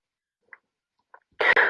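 A single sneeze bursts out loud and close near the end, preceded by a couple of faint, brief small sounds in an otherwise quiet room.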